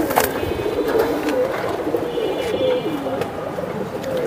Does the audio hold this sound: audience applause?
no